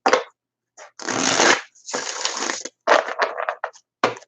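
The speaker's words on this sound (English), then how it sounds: "these cards are shuffling so nicely today" Tarot cards riffled and shuffled by hand during a live reading, with several close, crisp bursts of rapid flutter separated by short silences.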